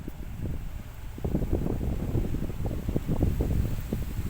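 Gusty wind buffets the microphone with a low, rumbling roar that swells and stays strong, with no voices.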